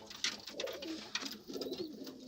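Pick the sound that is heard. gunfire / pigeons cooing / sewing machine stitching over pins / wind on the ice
pigeons cooing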